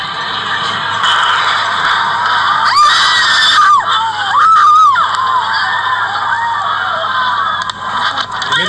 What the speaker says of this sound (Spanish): Ese aullido de horror al ver lo que estaba pasando.